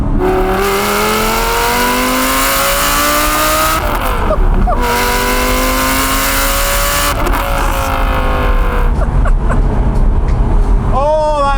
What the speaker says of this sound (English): So that is now the exhaust sorted. That is exactly how I wanted this car to sound.